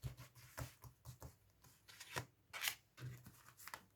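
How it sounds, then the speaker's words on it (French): Tarot cards are spread out across a table in a quiet series of soft swishes and papery slides, several short strokes in a row, close and faint. "je vais étaler mes cartes"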